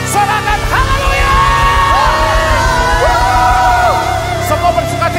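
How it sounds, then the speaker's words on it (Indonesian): A congregation at a New Year church service cheers and whoops loudly together, a sustained crowd roar with rising shouts and yells layered over it for several seconds. "Sorakan haleluya"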